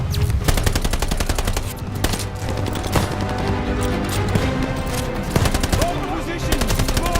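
Sustained machine gun fire in the video game Call of Duty Vanguard, rapid rattling bursts repeating almost without pause, with sharper single shots and battle noise layered over a low rumbling background.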